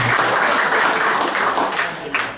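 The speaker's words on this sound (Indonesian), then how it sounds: "beri aplaus untuk Ibu Rosemary" Audience applause honoring Ibu Rosemary at an indoor company gathering, a steady dense clapping that holds loud through the clip and trails off slightly at the end.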